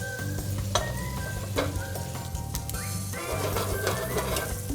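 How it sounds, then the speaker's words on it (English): Salmon fillets sizzle steadily in a hot pan alongside roasting garlic, a constant close frying hiss with scattered clinks of a utensil against the pan, no talking. "Let the salmon cook."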